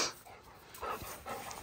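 A dog panting and making small whimpering sounds during fetch training with a fox-skin toy, short quick breaths close by and fairly faint.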